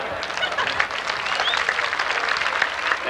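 Speedway grandstand crowd at Seekonk Speedway applauding drivers at a weekly stock car race, a steady dense wash of clapping with faint cheers, continuous and fairly loud throughout.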